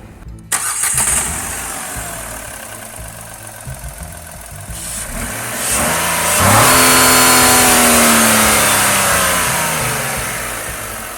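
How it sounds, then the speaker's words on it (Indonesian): A Renault Triber with a 1000cc three-cylinder BR10 engine and manual gearbox cranks and fires up nearby after a quiet stretch, then revs up sharply and eases back toward a steady idle, loud and clear with no talk. "Jadi kita taruh di sini aja dan kita langsung start mesinnya."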